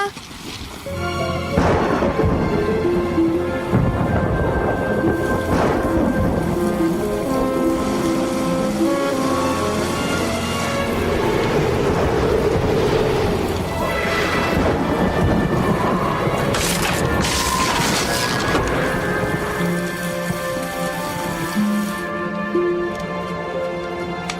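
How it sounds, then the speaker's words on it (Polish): Heavy rain pours steadily while rumbles of thunder roll through, loud and continuous, with some layered background sound underneath, in a Postman Pat animated episode. "ale pada deszcz."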